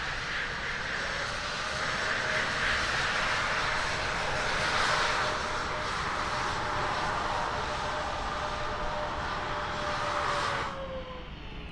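Ryanair airliner arriving at Lisbon in Microsoft Flight Simulator 2020, a steady jet engine roar with a faint whine that swells and then fades away near the end, no voices.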